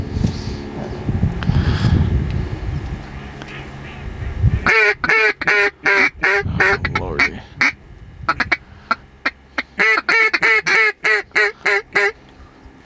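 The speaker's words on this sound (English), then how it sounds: "About to be a bunch of ducks here in just a second" Rapid, repeated duck quacks ring out in loud bursts close by, over decoys in Nebraska, following a stretch of wind-buffeted talk; a voice briefly exclaims.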